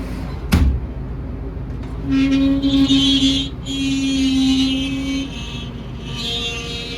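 A Peterbilt 389 truck drones steadily from inside the cab as it drives along, with a sharp knock near the start and a couple of rising tonal pulls.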